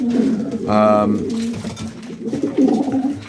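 Brass pennon racing pigeons coo in a loft, a short throaty burst close by with faint murmuring coos after it, under a person talking.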